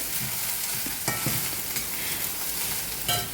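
Mustard seeds and chillies fry in hot coconut oil, a dense continuous sizzle close by, with scraping stirs of a spoon in the pan at intervals.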